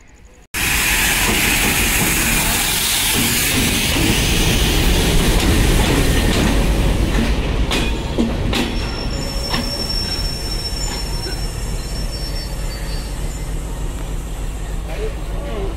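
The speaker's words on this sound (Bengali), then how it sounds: "বাংলাবান্ধা এক্সপ্রেস প্রবেশ করলো সান্তাহার রেলওয়ে জংশন স্টেশনে।" The Banglabandha Express rolls into Santahar Railway Junction station steadily with loud rumbling, clattering wheels and a high metallic squeal of brakes, with voices faintly in the background.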